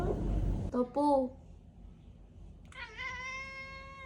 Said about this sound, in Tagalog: Kasi hindi talaga nagre-respond si Miso kahit mag-meow siya.